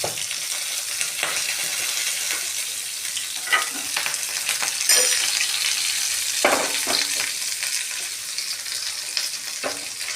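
Curry leaves and sesame seeds sizzle and crackle in hot oil for handvo, a close, continuous frying hiss with scattered sharp pops and spatters throughout.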